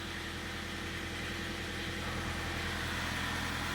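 A Kia Cerato with a G4FC engine and 161,000 km on it, a known knocker and oil burner, idles steadily and close by, a continuous low engine drone carrying faint repetitive ticking, with no one talking.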